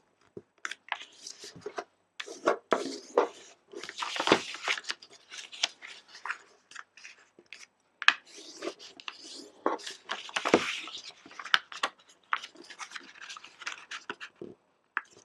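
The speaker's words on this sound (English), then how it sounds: "And now I'm going to fold each of these corners into the middle and unfold." Paper being folded and creased flat for an origami heart, with close, dry crinkles, rubs and taps in irregular bursts, some louder swishes as sheets are handled.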